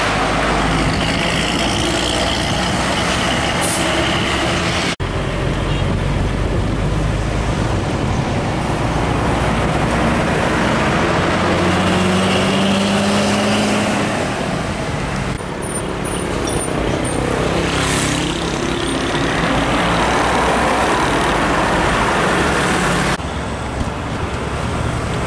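An old intercity bus rumbles past amid steady, loud road traffic on the Pantura highway near Tegal, Indonesia, with a brief hiss like an air brake partway through and no talking.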